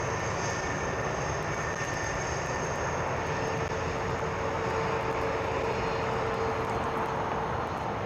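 Airliner departing runway 27R and banking into a turn, a steady, fairly distant engine roar that holds constant throughout with a faint whine above it.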